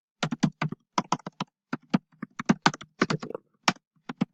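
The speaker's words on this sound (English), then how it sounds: "So at the bottom, I'm going to type out name" Rapid typing on a computer keyboard, close crisp key clicks in quick uneven bursts with short pauses between.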